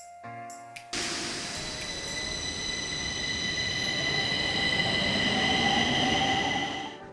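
A Stockholm metro train heard up close, a sudden loud roar of wheels on rail that builds steadily with high squealing tones and holds for several seconds before easing off.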